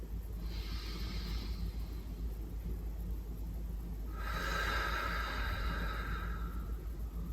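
Slow, deep breaths during a pelvic floor exercise: a long airy inhale, a pause, then a fuller, louder exhale, close and steady with no talking.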